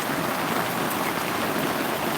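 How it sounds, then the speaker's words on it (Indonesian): Steady rain pours down outdoors, a dense continuous hiss of drops striking the ground and surfaces, close and even throughout with no voices. "Datang ke sini langsung turun hujan"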